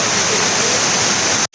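Clear stream water rushes steadily near Rimbi Waterfall in Sikkim, a loud, continuous broadband roar that holds unbroken before cutting off abruptly at the very end.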